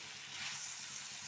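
Pumpkin sabzi cooking in a pan over a low flame, giving a quiet, steady soft sizzle with faint bubbling, heard alone and at low level.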